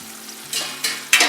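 Drumstick pods cook over medium heat in a thick-bottomed iron kadai, giving a low sizzle broken by three short scraping stirs in quick succession.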